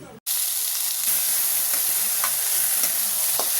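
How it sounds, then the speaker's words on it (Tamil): Onion, garlic and parandai sautéing in a pan for chutney, with a steady, fairly loud sizzle and hiss and a few soft scrapes as the mixture is stirred, no voices. "10 நிமிஷம் நல்லா வதக்கணும். இது நல்லா வதங்கிக்குது பரண்டை."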